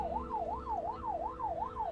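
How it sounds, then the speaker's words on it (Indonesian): A fast ambulance siren wailing, rising and falling in quick regular sweeps, steady and moderately loud, over a low rumbling background. "Hingga aku tersadarkan suara sirene mobil."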